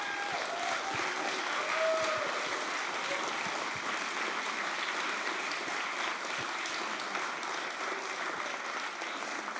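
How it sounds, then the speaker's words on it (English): Sustained applause from an audience at the A MAZE. Berlin 2016 award ceremony, honoring the festival team; dense, steady clapping fills the room for the full stretch, fairly distant and even in loudness. "big applause to the amazing Amaze team"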